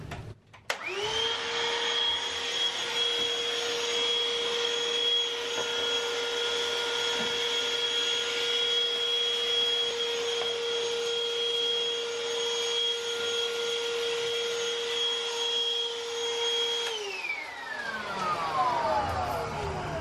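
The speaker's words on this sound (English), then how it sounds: "test out the new vacuum, which finally finished charging." A cordless vacuum cleaner whirs up aboard a 1990 Island Packet 35 sailboat, holds a steady high-pitched whine for a long stretch, then winds down near the end.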